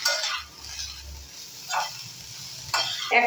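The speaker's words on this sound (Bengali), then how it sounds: "এখন এটাকে আমি নেড়ে চেড়ে নেব।" Vegetables seasoned with turmeric are stirred in a frying pan, giving a few soft scraping, sizzling bursts spaced out over a quiet low hum, with no talking.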